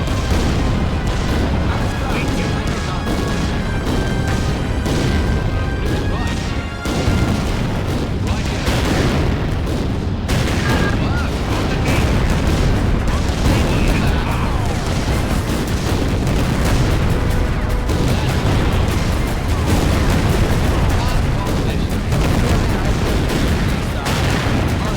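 Relentless artillery barrages and gunfire from a war strategy game set in an Ethiopian mountain pass: dense, overlapping booms and explosions roar loud and nonstop, with radio-style voice chatter mixed in.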